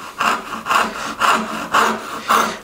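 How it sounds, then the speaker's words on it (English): A really thin curved hand saw cuts wood for a tenon in a wedged mortise and tenon joint, giving five steady rhythmic push strokes, loud and close, with no talk. "I'm just going to make a couple of saw cuts just about all the way to the baseline. And I'm using a really thin curved saw here."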